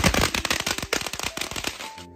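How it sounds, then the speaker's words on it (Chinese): A string of Chinese firecrackers goes off at New Year in a rapid, dense volley of sharp, loud cracks that fires nonstop for about two seconds before cutting off. "这个鞭炮能不能啊？ 我来玩一下"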